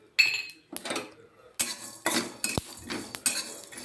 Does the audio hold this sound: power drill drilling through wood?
no